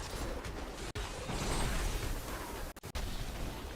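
Explosions and a whirling spin attack clash in Diablo 3 combat amid crowds of monsters, forming a dense, loud, continuous roar with a few sudden brief dropouts.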